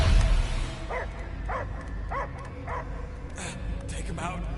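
Repeated dog barks and yips sound in the Guardians of the Galaxy video game, spaced at a regular rhythm over a low rumbling game soundtrack, with some talk in the background.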